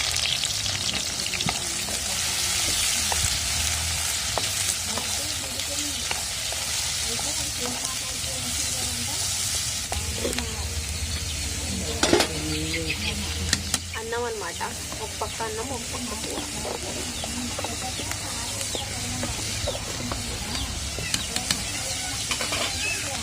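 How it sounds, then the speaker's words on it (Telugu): Onions and green chillies fry steadily in a pan with a dense, continuous close sizzle and occasional stirring clinks, and faint voices in the background. "ఉల్లిపాయలు వేసుకుందాం ఉల్లిపాయలు పచ్చిమిరపకాయలు"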